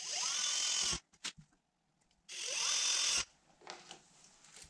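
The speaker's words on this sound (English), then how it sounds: "I'm just going to use an 8 pilot. I'll drill these two, then I'll aug them out with the bigger." Power drill boring pilot holes with an 8 bit into a Dodge SRT rear spoiler for rivets fitting a wicker bill; two loud sustained whirring bursts of about a second each, separated by short clicks and quiet handling noise.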